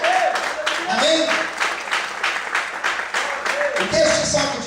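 A church congregation applauds loudly during a Portuguese-language sermon on Psalm 37. The clapping is a continuous crackling wash, with a preacher's voice talking over it.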